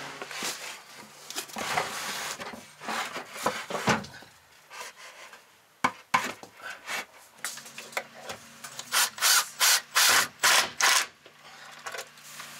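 Pocket screws driven with a power drill into wooden van cabinetry: choppy scraping and clattering of wood work, then a run of short, evenly spaced whirring drill bursts near the end, close and fairly loud.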